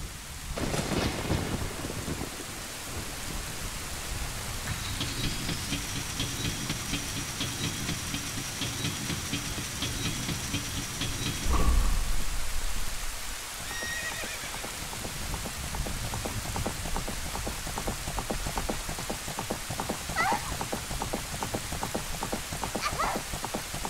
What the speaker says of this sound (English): And just magically gets dark and starts raining.